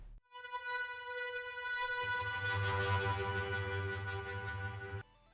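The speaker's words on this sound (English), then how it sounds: "In the background, I've got this organ" A sustained, buzzy organ-like synth chord swells with a deeper layer joining midway, drenched in reverb before cutting off abruptly.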